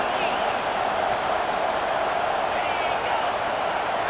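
Dense, steady stadium crowd roar from a College Football 25 game, a continuous wash of cheering noise filling the whole stretch at even loudness.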